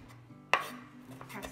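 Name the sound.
knife chopping parsley on a board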